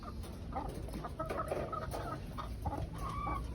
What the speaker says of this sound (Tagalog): Ayan yung mga manok ko na decaled white.